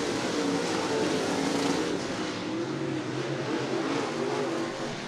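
Late model race cars roar around Cottage Grove Speedway, a dense, continuous engine drone from several cars heard from a distance with rising and falling pitch as they circle the track.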